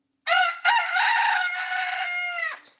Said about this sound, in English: he ain't never gonna be anything but a rooster